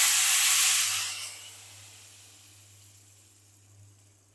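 Hot cumin and red chili tadka poured onto mixed dal with methi: a loud, bright sizzle bursts up, then quickly dies down to a faint, lingering hiss.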